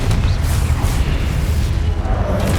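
Confringo fire spell blasting in Hogwarts Legacy, a dense, loud booming burst with rumbling low end that fills the whole moment, with no pause or gap.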